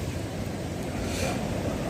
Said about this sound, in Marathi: नदी दुतडी भरून वाहते